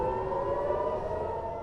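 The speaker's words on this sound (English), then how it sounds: "in Tel Aviv with sirens blaring and air defenses intercepting the projectiles" An air raid siren wails with a loud, sustained, steady tone over Tel Aviv, Israel, during a missile attack while air defenses intercept the projectiles. The siren sounds alone throughout the brief stretch.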